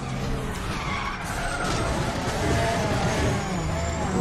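Tires screech continuously as a car drifts and skids in a racing video game, a sustained squeal over engine rumble with no speech heard.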